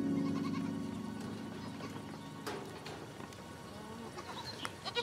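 Goats at an oasis village bleat at a moderate distance, with a drawn-out call at the start and a few shorter bleats and rustles afterward.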